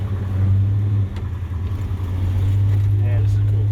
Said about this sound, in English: Ride along in the 56 wagon two-door, guys.